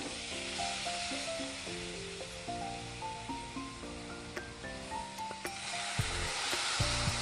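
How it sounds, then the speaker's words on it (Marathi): Prawns cook in a pan with a continuous close sizzle and hiss, partly under steady background music. "ही कोलंबी आहे ना शिजवून घेऊया पहिली"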